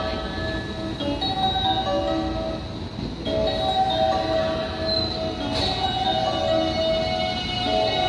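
A local train to Kyoto hums steadily at a platform in Kobe Station, with a low rumble, faint tonal whine and occasional brief squeals, no talking.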